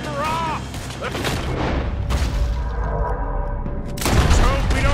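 A shootout in Red Dead Redemption 2 with rapid gunshots and heavy booms cracking over a rumbling din, loud and continuous, while characters shout and talk over the firing.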